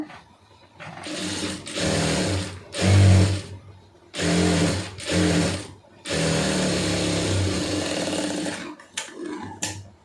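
A sewing machine stitches a sleeve lining in several loud, close bursts of rapid whirring, separated by short pauses, with a few small clicks at the end.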